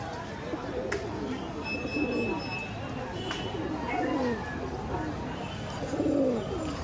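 Kaldom pigeons coo several times at fairly close range, with low, rolling calls repeating every second or two against a steady background hum.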